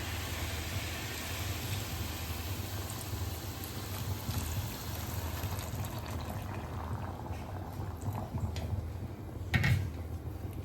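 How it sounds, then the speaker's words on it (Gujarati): Milk with cream is poured into grated bottle gourd that has been frying in ghee for a halwa, giving a steady, close hiss of bubbling liquid with a brief splash near the end and no talking. "તો હવે આપણે એમાં દૂધ એડ કરી લઈશું."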